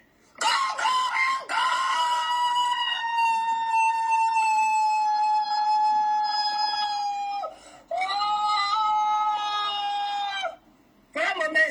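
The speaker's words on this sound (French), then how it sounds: "Le coq vient chanter." A rooster crows loudly and close, two long drawn-out cock-a-doodle-doo calls in succession with short pauses, standing out against a quiet background.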